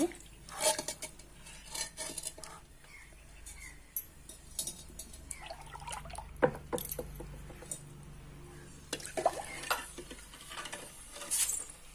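Clay pots soaking in water clink and knock together in scattered, faint sharp taps with light sloshing, close by and mostly without talk.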